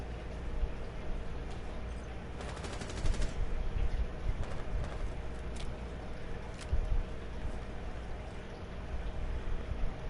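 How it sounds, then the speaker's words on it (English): Burst-fire gunshots in a first-person video game, short rapid volleys crackling over a steady background hum, with a couple of separate bursts spread through the stretch. "I'm going to burst fire this."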